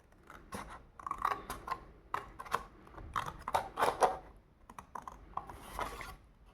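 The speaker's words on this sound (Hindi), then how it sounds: "अब चलिए इसे मैं काटती हूँ।" Scissors snip through paper for a craft paper flower pot, a series of crisp, close cuts coming in irregular bursts with small pauses between them.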